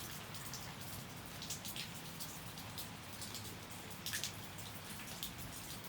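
Steady rain falls outdoors as a dense, even hiss of drops with scattered louder patters, moderately close and continuous, with no one talking.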